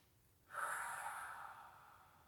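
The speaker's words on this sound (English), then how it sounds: "long deep breaths out." One deep breath through the nose starts abruptly, then a long airy exhale fades slowly. It is close and quiet, with no talk.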